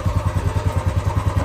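A motorcycle idling just after a cold start, its engine putting out a steady, even train of low thumping pulses, close and fairly loud with no talk.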